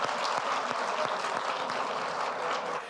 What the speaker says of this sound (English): can you just clap hands for them?